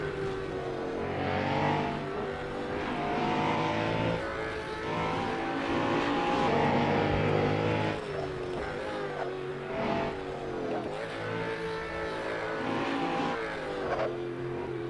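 Koenigsegg One:1 hypercar engine in the racing game Assetto Corsa, a loud sustained high-revving roar that climbs and shifts through gears without pause, with no talk.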